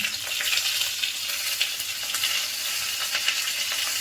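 Bay leaf, whole garam masala, five-spice seeds and dried and green chilies frying in hot oil for a bottle gourd and prawn dish, with a close, continuous crackling sizzle and scattered pops.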